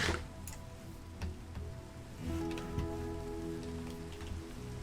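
Rain patters faintly and steadily in Minecraft survival mode, scattered soft ticks and drips over quiet background tones.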